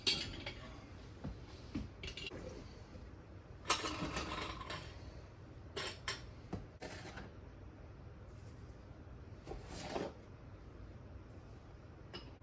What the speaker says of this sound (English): And it goes in the canner.